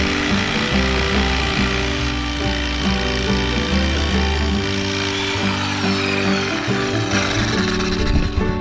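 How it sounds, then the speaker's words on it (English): Tree stumps being cut off close to the ground with a power tool, a rough, buzzing cutting noise with uneven grinding pulses and woody rasping, close and continuous. "we'll go ahead and chop these off a little bit tighter to the ground"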